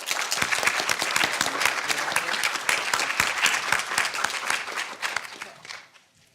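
An audience in a conference hall bursts into sustained, dense applause welcoming a speaker, many hands clapping together close and loud for about six seconds before it fades out.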